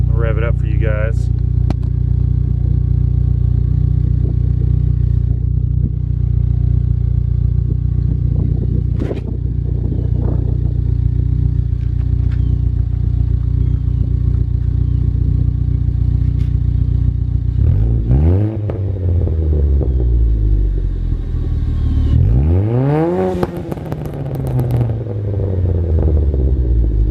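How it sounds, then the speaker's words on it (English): A car engine with a new exhaust and its tips removed idles with a deep, loud rumble, then revs up twice in rising and falling sweeps near the end, close by. "I'll rev it up for you guys"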